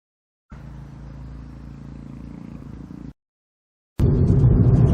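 A 2018 MG3 1.5 VTi Form Sport small hatchback drives along with a steady low engine and road hum, which cuts out briefly before a louder, closer burst of engine and road noise returns.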